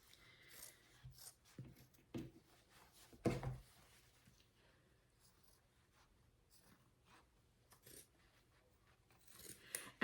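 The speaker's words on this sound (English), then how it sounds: "So we'll just cut along the trace line." Scissors snipping fabric along a traced pattern line for scarecrow pants, intermittent close crunchy cuts and rustles separated by quiet pauses.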